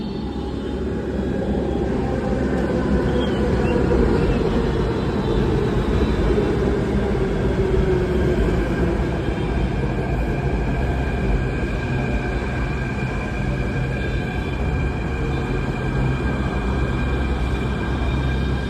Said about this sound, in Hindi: मेट्रो आ चुकी है, अब चलते हैं।